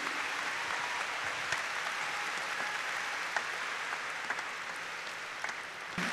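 An audience at a Taiwanese entertainment event applauding to welcome pianist Xu Yuying, even, sustained clapping from a sizable crowd at moderate volume, steady from start to finish.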